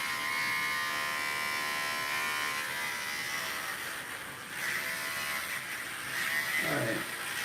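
Electric razor shaving a head, a close, steady buzzing hum that runs without a break and shifts slightly in tone as it moves across the scalp.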